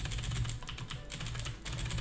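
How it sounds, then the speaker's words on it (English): Fast typing on a Cooler Master CM Stone keyboard with blue switches gives sharp, clicky keystrokes in quick, uneven bursts, close and clear with no talk. "We got blue switches. Yeah. And my keyboard is the Cooler Master CM Stone."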